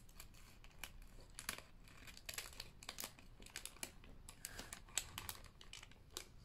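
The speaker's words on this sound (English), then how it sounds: "I'm gonna go in with the scissors now and rescue that." Scissors snip through paper and card during junk journal crafting, a quick run of close, crisp cuts mixed with crinkling and rustling of the sheet, fairly quiet and steady.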